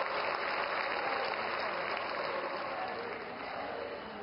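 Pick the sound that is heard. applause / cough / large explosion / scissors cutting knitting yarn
applause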